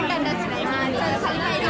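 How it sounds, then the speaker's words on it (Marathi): Dense chatter of a large crowd of pilgrims at Ekvira temple, a steady close babble of many overlapping voices with no single speaker standing out. "आम्ही आता गर्दीमध्ये चालतो आहे, खूप गर्दी"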